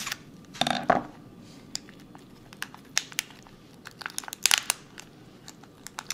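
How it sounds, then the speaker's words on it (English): Kitchen shears crunch and snip through a lobster tail shell in a few sharp crackling bursts, with quieter clicks and crinkles between them, close up in a home kitchen. "take your kitchen shears and slice it right down the middle"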